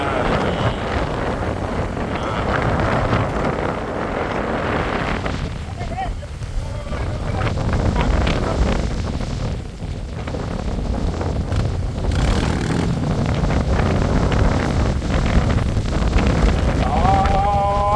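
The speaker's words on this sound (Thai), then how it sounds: "ลมแรงมากโอ้ยจะไปแล้ว" Very strong wind buffets the microphone outdoors, a loud, steady roar with gusting surges throughout, and voices are partly buried beneath it.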